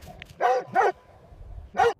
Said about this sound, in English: barking furiously at the pack